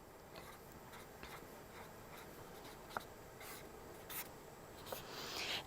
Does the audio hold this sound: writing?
yes